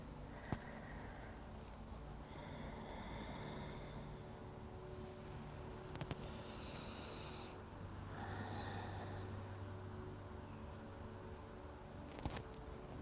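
Slow, soft breathing during a yoga forward fold, with several gentle inhales and exhales spaced a couple of seconds apart over a steady hiss of background noise. A few faint clicks are also audible.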